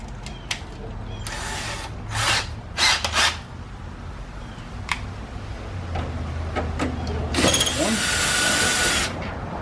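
Ratchet wrench turning 10 mm pillar screws out of a car bumper cover, giving bursts of rapid clicking against a low background hum, with a longer grinding stretch near the end.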